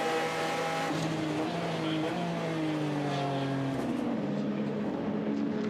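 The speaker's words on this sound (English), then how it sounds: "The LMP2 car making its way around the Ford." An LMP2 prototype race car at Le Mans sweeps past the Ford chicane near the big Ferris wheel, its engine note climbing and falling through the gears in a loud, continuous howl with crowd and track ambience behind.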